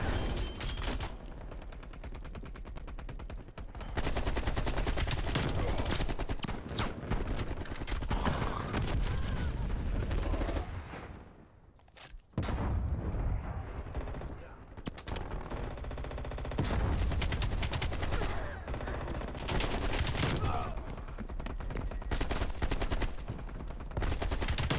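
Near-continuous automatic gunfire in a first-person shooter match fought over a contested hardpoint, dense bursts running loud almost throughout, easing briefly near the middle before resuming.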